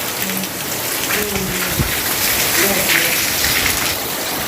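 Steady rain hiss fills the whole stretch, a dense even wash of drops with a brief low thump partway through.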